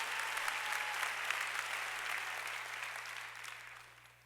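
A church congregation applauds during a Sunday worship service, a steady wash of many hands clapping that gradually fades, with a low electrical hum beneath.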